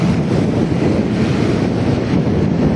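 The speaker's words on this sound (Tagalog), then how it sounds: "medyo malakas yung hangin" Strong wind buffets the microphone in a steady, loud rumbling roar while walking along a road from Pearl Drive toward Shaw Boulevard, with no voices, throughout.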